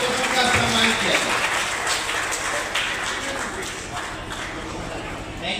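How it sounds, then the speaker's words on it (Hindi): Applause from a crowd at an alumni reunion gathering in Muzaffarpur, Bihar: a dense, steady clapping wash that stays loud and even throughout, with faint voices beneath. "जोरदार तालियों से आप लोगों का सम्मान किया"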